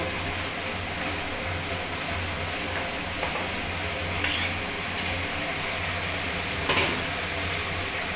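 Banana flower being stirred into cooked spice paste in a pan for a chickpea and coconut ghonto, a continuous scraping and sizzling texture with a few sharper spoon knocks, close and fairly loud, no voices.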